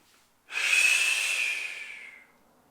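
A single long, breathy exhale or inhale during a yoga breathing exercise for the abdominal lock, a close airy hiss that swells and fades over about two seconds, alone with no talk.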